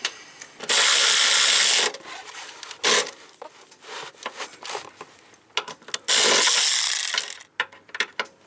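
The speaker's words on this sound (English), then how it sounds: "Just got to tighten the 2 lower bolts up and the installation's done" A ratchet tightens the two lower bolts on a Jeep Patriot ABS module: rasping clicking bursts of about a second each, with short knocks and quieter handling noises in between.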